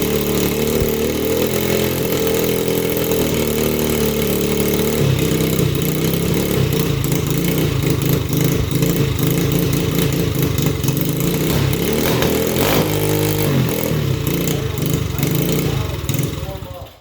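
A project motorcycle idles steadily after its first startup in over a year, with oil in the top end from being tipped over. The engine keeps a loud, even throb as people talk over it.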